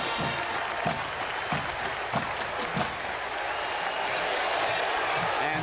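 Stadium crowd at a college football game between Ohio State and Purdue applauds a returning player, sustained clapping and cheering from a large distant crowd with a commentator talking over it.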